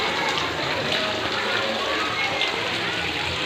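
Steady rain falls on a hill in Kalijati village, Pangandaran, a dense, even hiss of drops on surfaces that carries on unbroken throughout, with no voices.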